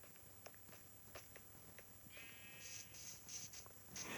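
In the Minecraft video game, a sheep bleats a few times near the end, heard over soft repeated footsteps on terrain.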